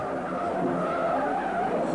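A Ford car with bad brakes skids in a steady, loud tire screech that holds unbroken for the whole two seconds, with no voices over it.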